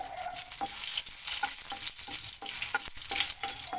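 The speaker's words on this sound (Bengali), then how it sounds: "এখানে আমি দুটো ছোট তেজপাতা দিয়ে দিচ্ছি আর একটা শুকনো লঙ্কাকে মাঝখান থেকে একটু ফাটিয়ে দিয়ে দিলাম" Bay leaves, a split dried red chilli and white cumin fry in hot oil in a pan, giving a soft steady sizzle broken by repeated scraping stirs.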